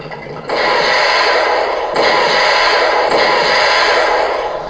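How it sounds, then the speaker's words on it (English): A loud electronic front missile launcher effect blasts from the small speaker of a Mattel Justice League 6-inch Ultimate R/C Batmobile toy in a long noisy whoosh, with a couple of sharp surges partway through. "And then the final one is your front missile launcher."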